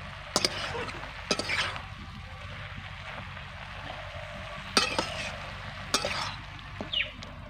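Malabar spinach stirred with chili powder and salt in a pan, a faint background sizzle broken by several sharp scrapes and clinks of the spoon against the pan, spaced irregularly, close by with no talking.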